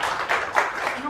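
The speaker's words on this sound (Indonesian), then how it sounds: "Oke, tepuk tangan buat Mas Sony" Audience applause after a talk, a moderate patter of clapping that swells and eases a few times across the short stretch, with a faint voice at the very end.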